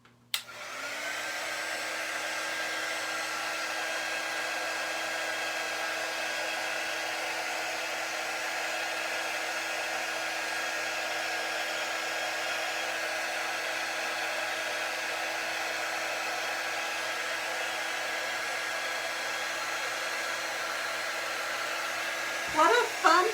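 A handheld dryer blowing over a craft project, a loud steady whirring drone that starts abruptly, holds constant for about twenty seconds, then gives way to a few brief knocks at the end.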